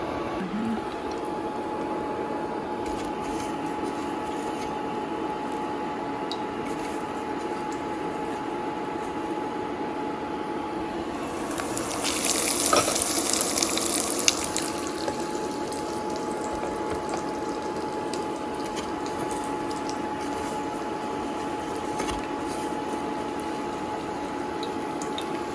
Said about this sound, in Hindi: और उसको शैलो फ्राई कर लेंगे।